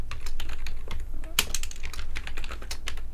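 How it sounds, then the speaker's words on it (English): Someone types a program on a computer keyboard, producing a dense, rapid run of close key clicks and clacks with uneven rhythm and a few louder strikes, alone without speech. "So I'm typing away, I type my program in."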